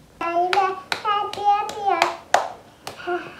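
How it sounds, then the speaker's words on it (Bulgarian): A young child claps small hands during a painting session at home, giving about eight sharp, uneven claps at close range, mixed with a voice vocalizing between them. "Пляс, пляс, ръчички."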